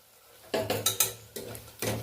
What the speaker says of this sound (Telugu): పెరుగు వేసుకొని బాగా కలుపుకుందాం